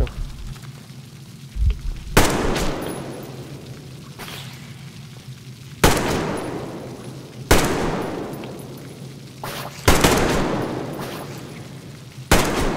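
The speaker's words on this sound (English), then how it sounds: "They're gonna be shooting us with their stupid pellets" Gunfire from enemies shooting at the player in the game Metro Exodus, with sharp shots cracking out one or a few at a time at uneven intervals, each with a booming tail, while someone talks over it.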